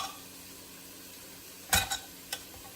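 Onions cooking in a pan give off a faint sizzle, broken by a few brief utensil scrapes and knocks near the end.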